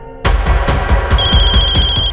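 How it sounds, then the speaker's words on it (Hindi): A telephone rings loudly and insistently, a steady electronic bell tone repeating in quick pulses right up close, with no voices over it. "फोन उठाओ वीरेन, फोन उठाओ"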